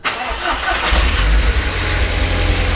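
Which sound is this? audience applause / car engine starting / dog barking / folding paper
car engine starting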